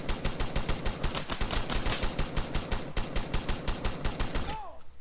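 Rapid automatic gunfire in a video game, a loud, steady stream of evenly spaced shots lasting several seconds before it stops suddenly, with a brief faint sound at the end.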